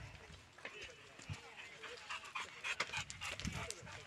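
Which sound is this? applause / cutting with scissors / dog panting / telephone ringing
dog panting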